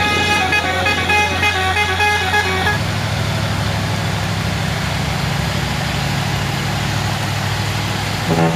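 A heavily loaded Fuso trailer truck climbs a steep hill, its engine droning loud and close with a steady low rumble, while a sharper tonal horn-like sound rings over it for the first few seconds.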